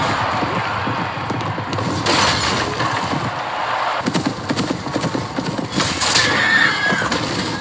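A horse whinnies after being struck during a joust, a loud cry over a dense din of crowd and clatter, with sharp crashes and hoof-like thuds running through it.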